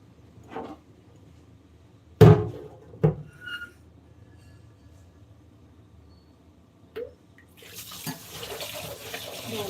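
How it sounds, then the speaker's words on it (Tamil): Water swishing in a bowl while urad dal and fenugreek seeds are rinsed together in a home kitchen, a few splashes and clunks over quiet gaps, then a steady running-water hiss toward the end. "உளுந்தையும் வெந்தயத்தையும் எல்லாம் ஒன்றா சேர்த்து ஒரு வாட்டி வாஷ் பண்ணிக்குவோம்"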